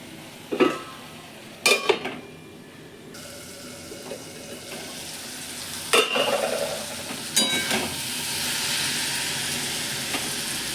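Spices sauté with prawns, yardlong beans and potatoes in a pan, giving a continuous sizzle. Several sharp scraping and knocking stirs punctuate it, the frying swells louder later on, and no one talks.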